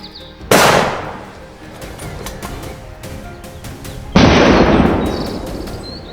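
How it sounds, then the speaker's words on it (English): Two loud gunshots from a farmer's rifle aimed at a wild boar charging out of a pine forest, each a sharp close blast with a ringing decay, about three and a half seconds apart. "Without hesitation, I aimed and fired."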